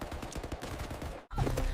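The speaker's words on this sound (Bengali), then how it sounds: "মুখোশধারীরা গুলি চালাতে শুরু করল। গুলির শব্দ রাতের বাতাসে কাঁপুনি ধরিয়ে দিচ্ছিল।" Gunfire sound effect in an audio story about masked men shooting at night, a rapid burst of loud shots breaking off briefly, then resuming just as loud.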